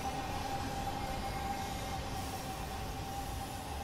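An AI-driven GTW train pulls away in Train Simulator 2015 on the Vechtdal lines, a quiet, steady rolling rumble with a faint sustained tone above it and no distinct events.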